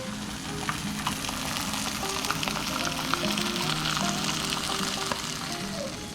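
Trout fillets frying in a pan give a steady, close crackling sizzle with fine popping spatter that holds throughout, no talking.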